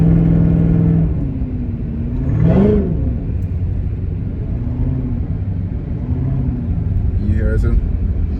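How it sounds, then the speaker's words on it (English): An 800 hp Cadillac CTS-V rumbles deeply while cruising on the road, a steady low engine drone with a brief rev swell, heard from inside the car with people talking over it. "It's just the engine sound."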